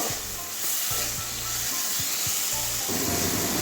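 Bitter gourd and prawns sizzle and fry in a pan while being sautéed and stirred, a steady hiss broken by repeated scraping strokes of a spatula, close and moderately loud with no talking.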